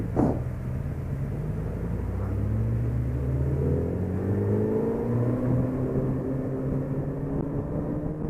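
A Suzuki Hayabusa motorcycle engine, heard as a steady close rumbling drone whose pitch climbs and shifts as it revs, continuous for several seconds with no voices.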